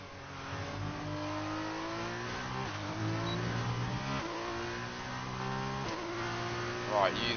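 An F1 car accelerates hard at the USA Grand Prix, its engine note climbing steadily through repeated gear changes in a loud, continuous high-pitched whine.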